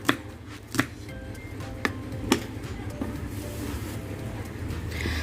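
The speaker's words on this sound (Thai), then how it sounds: "ก็ให้นำผักกาดหอมนะคะ มาหั่นซอยแบบนี้ค่ะ" Several sharp knife chops slicing lettuce on a cutting board, irregularly spaced, fairly close, over a steady low background hum.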